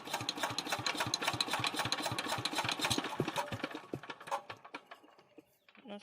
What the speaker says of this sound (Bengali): চলুন ইঞ্জিনটি চালু করা যাক।